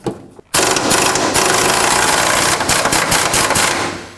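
An 18mm socket tool spins a nut off the rear upper control arm of a 2005-2010 Pontiac G6, a loud, close, steady mechanical whir starting after a brief quiet moment and running unbroken to the end.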